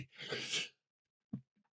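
A single close, sharp human sneeze with a breathy burst, followed by a brief pause and a short quiet sound.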